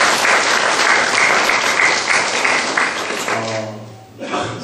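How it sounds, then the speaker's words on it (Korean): Church congregation gathered for a founding anniversary service claps together in dense, loud applause that holds steady, then thins out and fades toward the end as a voice begins. "감사와 영광의 박수를 한 번 더 올려드리겠습니다"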